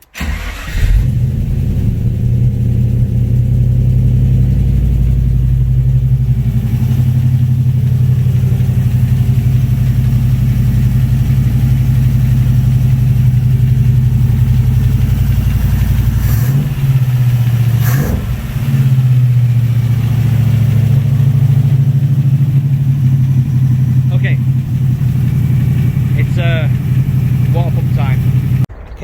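Ford Capri V8 project engine being restarted on choke with no water pump fitted, cranking briefly then settling into a loud, steady, rumbling run close up, with a brief dip and wind buffeting partway through.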